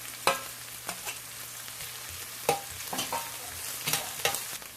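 Curry leaves and ginger garlic paste with onions fry in a pan, a steady sizzle broken by several sharp scraping stirs of a spoon, close and fairly loud with no talking.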